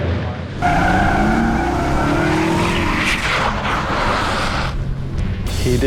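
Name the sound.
car skidding through a 90-degree stunt spin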